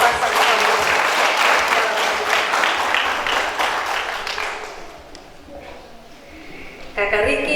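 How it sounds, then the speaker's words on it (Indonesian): A congregation applauds at a church wedding blessing, loud sustained clapping from many hands that fades after about five seconds, followed by quieter room sound and a brief burst of noise near the end. "Mari kita kasih tepuk tangan untuk sepasang suami."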